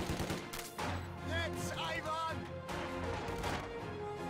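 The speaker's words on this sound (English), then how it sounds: "Second mortar hitting the field" A mortar shell strikes the field in a Star Wars video game battle, one of several sharp bursts of explosions and gunfire mixed with voices, loud and busy throughout.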